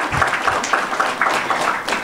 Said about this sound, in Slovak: Zaslúžite si rovnaký potlesk ako všetci ostatní.